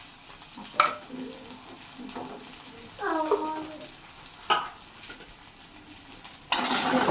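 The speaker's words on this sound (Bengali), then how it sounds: "আমি মশলাটা একটুখানি ভেজে নিয়ে কষি আর আলুটা দিয়ে দেবো" Spice paste (masala) frying in a pan for a catfish curry with potato and cauliflower, heard as a soft sizzle with scattered utensil clinks and scraping stirs, ending in a louder burst.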